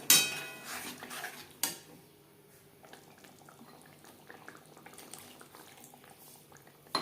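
Rinse water from a mixer jar poured into a pot of Katla fish curry, a clatter of the jar against the pot at the start, then soft bubbling and liquid sounds at close range.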